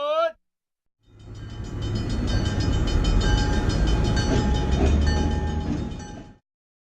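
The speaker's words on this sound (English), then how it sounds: "we are in an old train tunnel here looking at various cars for the train system" An old New York subway train in a transit museum tunnel rolls past close by, a broad, steady rumble and screech that swells in and holds for several seconds before cutting off, after a brief snatch of voice at the start.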